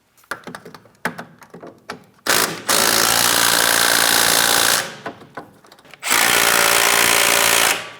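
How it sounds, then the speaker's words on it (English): Power tool snugging backing plate bolts on a 2007-2014 Ford Edge rear hub, several short bursts, then two long, loud sustained runs of the tool, close and alone with no talk. "When snugging these bolts, we're going to go in a crisscross manner, confirming we seat this bearing properly."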